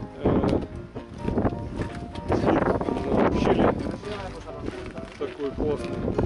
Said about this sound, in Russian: Здесь временами такие сильные порывы ветра.